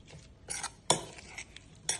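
A spoon stirs spice powder into a ridge gourd curry in a pan, making bursts of metallic scraping and clinking in an uneven rhythm, close and with no talking.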